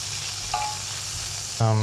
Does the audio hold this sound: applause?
no